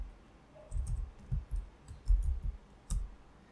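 Light typing on a computer keyboard with a few mouse clicks, close and quiet, the keys tapped in short irregular bursts with small pauses between them.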